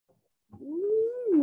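A teacher's voice imitates a cat with one clear, drawn-out meow that rises and then falls, loud and close after a brief silence.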